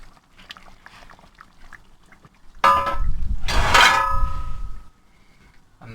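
Pot and lid lifted off a kamado grill: quiet clinks at first, then a loud metallic scrape and clatter of cookware lasting about two seconds, followed by a brief knock.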